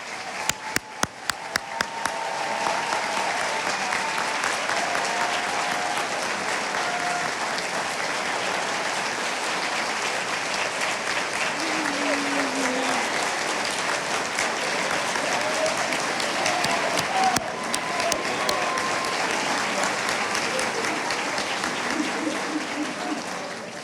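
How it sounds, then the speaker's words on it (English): An audience at a high school senior graduation ceremony gives the graduates a long, sustained round of applause, loud and dense, opening with a few scattered claps before swelling into a full crowd that holds steady to the end. "I think we should all give them one big round of applause."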